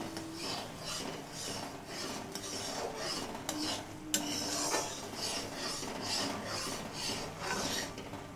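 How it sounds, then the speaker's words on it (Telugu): Peanut chikki sugar syrup being stirred in a pan, a steady rhythmic scraping of a spoon against metal about once per second over a soft bubbling sizzle, close and moderately loud. "చిక్క అయ్యే వరకు కలుపుతూ ఉండాలి"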